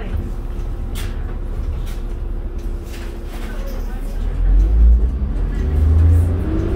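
A 2005 New Flyer D40LF city bus on a night route in Calgary accelerates, its engine rising to a louder low rumble from inside the bus as passengers talk.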